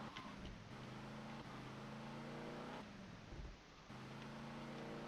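A Renault car driving in GTA Vice City (Mamaia Vice mod), steady engine drone with shifting pitch as it accelerates and eases off, fairly quiet and continuous with no speech.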